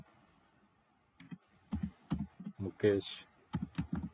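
Someone typing code on a computer keyboard, with a quick run of key clicks mixed with a person speaking close by.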